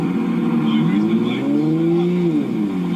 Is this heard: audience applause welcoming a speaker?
no